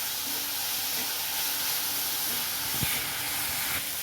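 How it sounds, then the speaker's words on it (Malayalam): Tomatoes dropped into a hot pan of softened onions for an egg and soya chunk curry, giving a steady hissing sizzle throughout with a couple of soft knocks near the end. "അങ്ങനെ വാടി വരുന്ന സമയത്ത് തക്കാളി ഇട്ട് കൊടുക്കാം."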